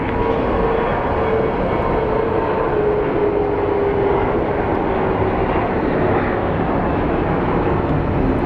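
An airliner at Phoenix Sky Harbor airport produces a loud, continuous jet roar that holds steady with a faint whining tone, heard close and alone.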